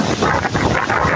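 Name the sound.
strong wind from a waterfall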